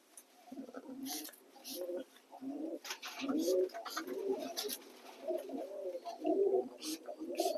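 Domestic pigeons cooing repeatedly in soft, rhythmic low phrases, close by, with rustling and a few faint chirps in a coop.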